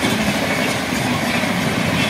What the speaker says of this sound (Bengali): এই যে ট্রেনটা দেখতে পাচ্ছেন, এই হচ্ছে হাওড়া যাচ্ছে